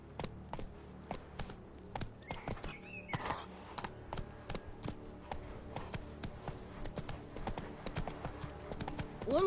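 The horse Roach walks in The Witcher 3, and its hooves give a steady, rhythmic clip-clop. The steps are clear and fairly close, with a few soft game sounds between them.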